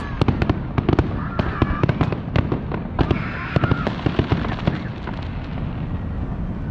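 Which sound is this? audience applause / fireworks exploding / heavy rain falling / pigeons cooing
fireworks exploding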